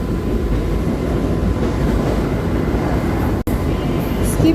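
A Mumbai AC slow local train just leaving Jogeshwari station, heading toward Goregaon on the Mahalaxmi–Borivali run, gives a steady loud rumble and hiss of motion with one brief dropout near the end.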